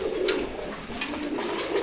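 Low, rolling coos rise from a flock of male pigeons eating their morning feed in a loft, racers and red checkers among them, with a couple of sharper clicks from pecking or wingbeats nearby.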